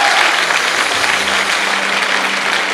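A church congregation applauding at a worship service, sustained dense clapping from many hands that fills the room and holds steady throughout.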